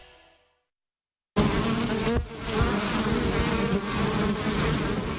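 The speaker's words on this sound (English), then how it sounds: "You may hear the buzzing of bees less frequently this year" Bees buzzing loudly and steadily up close, a dense continuous drone that starts abruptly after a moment of near silence and carries on without a break.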